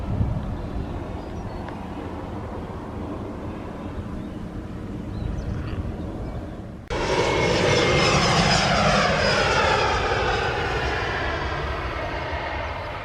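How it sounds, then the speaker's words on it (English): A small propeller plane flies over an airfield at a caravan park, its engine drone audible at a distance before swelling abruptly into a loud, close roar that slowly fades. "Only getting small planes in today."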